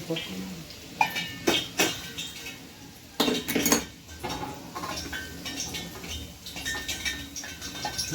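A spoon scrapes and clinks against a pan while mustard dal and garlic are stirred in hot oil for mango pickle, giving scattered metallic taps close by under a person talking.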